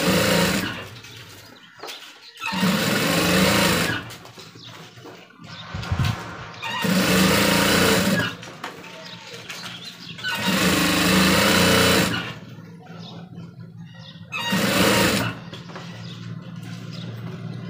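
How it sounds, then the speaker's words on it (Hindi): An electric sewing machine stitches a shirt collar in loud, steady runs of rapid mechanical whirring. Short pauses and quieter stretches separate the runs, and no speech is heard. "हल्के हल्के मशीन को लेना है इस तरह से और इसके बाद में हमें इसके किनार में इसी तरह से चलानी मशीन"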